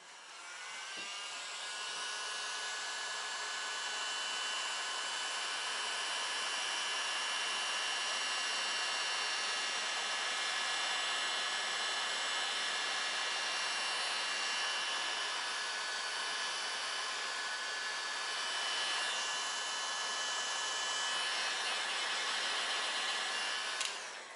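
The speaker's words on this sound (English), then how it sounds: "Grab the heat gun." A heat gun runs steadily with a constant whooshing blower hum, moderately loud and close, during a Shelby GT350R front spoiler skid plate installation, with no talking over it.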